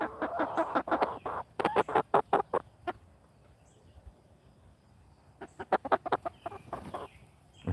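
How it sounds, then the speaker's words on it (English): Chickens cluck on a farm in two busy bursts of rapid, close clucks with a quiet pause between them, no talk. "Chicken looks like Abe Lincoln"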